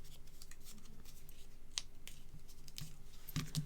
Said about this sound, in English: I'm just going to trim that there